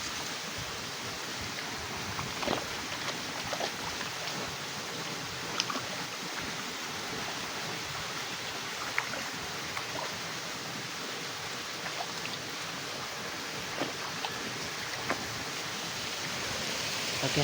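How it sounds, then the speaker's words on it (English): A small river flows steadily with a constant broad rushing wash, punctuated by faint splashes and clicks, with no talking. "Okay, now I'm in small river."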